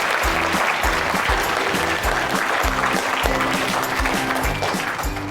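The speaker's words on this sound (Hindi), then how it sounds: "अच्छी ताली अपने लिए बजाओ" Children at a gurukul school clap loudly and steadily for themselves, a dense, close burst of applause that carries on for several seconds with almost no talking.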